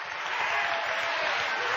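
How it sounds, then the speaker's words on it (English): A church congregation claps their hands together in steady, dense applause, loud and continuous throughout with no voices breaking through. "Clap your hands again and rejoice"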